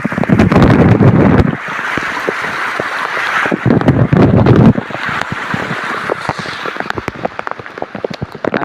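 A small waterfall near a Sahyadri hill village splashes and hisses steadily during rain, broken by heavy gusts of wind buffeting the microphone.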